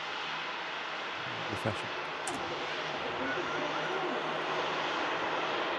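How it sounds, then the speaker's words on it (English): SunExpress airliner taxiing at Manchester Airport, a steady broadband engine roar held at moderate distance throughout, with a person speaking briefly over it. "Sun Express just taxiing in here."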